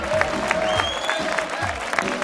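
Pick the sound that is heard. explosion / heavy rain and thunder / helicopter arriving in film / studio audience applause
studio audience applause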